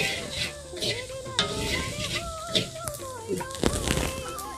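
Turmeric and salt being stirred in an iron kadai, with scraping spoon strokes and light metallic clinks over a soft sizzle, while a person talks throughout.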